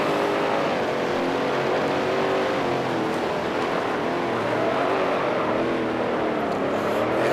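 A 1971 Can Am race car engine roars loudly and continuously down a long straight at Atlanta in Grand Prix Legends, holding a strong harmonic drone that rises slightly in pitch as it accelerates.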